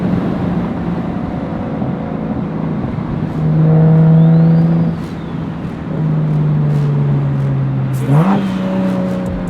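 A BMW 335i's N55 engine with a big single turbo idles low, then revs up with a throaty surge, settles, and rises again with a quick rushing whoosh as the dump pipe opens near the end; close by, no talking.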